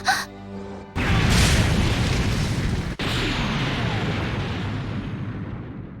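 Rei's Eva core detonates in an Evangelion scene, a loud roaring explosion with a sudden heavy onset and a sustained rumbling blast that tails off slowly, with a brief cut midway.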